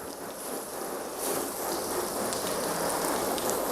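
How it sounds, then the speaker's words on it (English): A garden hose sprays water down a car's body panel in an indoor space, a steady broadband hiss of running and splashing water that swells slightly partway through and continues without pause, with no voices. "Rinse down the panel again."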